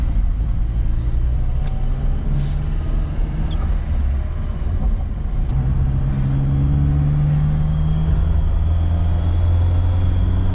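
A Lada Zhiguli car on a short test drive, its engine droning and rising in pitch under a steady loud road rumble from inside the cabin.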